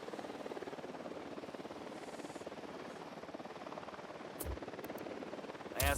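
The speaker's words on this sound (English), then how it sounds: "Chopper inbound." A helicopter in the Ghost Recon Wildlands video game gives a steady, loud rotor roar with a rapid chopping pulse that holds through most of the stretch, ending with a brief louder burst.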